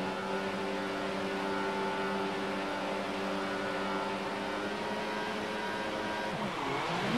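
Race-start engine drone and wheel spin from a Formula One car in the F1 2014 PC game at Bahrain, a steady loud tonal whine holding throughout, with pitch bending and sweeping near the end.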